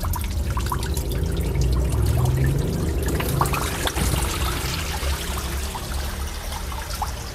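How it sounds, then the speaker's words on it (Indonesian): Dirty black water from a filter chamber drain tap during a backwash, splashing and gushing out steadily at close range for several seconds. "kita buka keran yang keran pembuangan di chamber"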